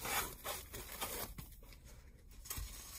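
Scrunching and rustling as a digital body weight scale is pulled from its styrofoam packing and plastic bag, a few close crinkles and scrapes with brief pauses.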